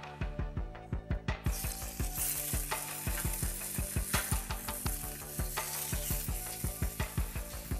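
Meat searing in a hot pan for a tataki, a steady sizzle and frying crackle with repeated sharp clinks and scrapes of utensils throughout, loud and close with no talk.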